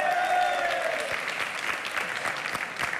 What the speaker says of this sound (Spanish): Un aplauso para Benarrabá, por favor.